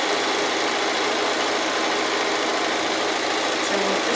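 Sewing machine stitching the seam of a Christmas stocking, a steady, even mechanical whir running continuously at close range without a break.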